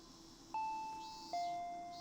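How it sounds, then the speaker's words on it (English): Two-tone electronic doorbell chime, struck twice with each tone ringing out and fading, faint over a quiet steady background hum. "I heard the doorbell ringing."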